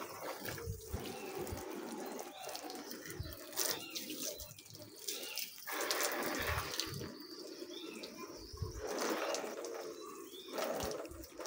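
Water sprays in uneven bursts from a hose onto a Beach Street motorcycle being washed, splashing and hissing against it, loud and close, with short pauses between sprays.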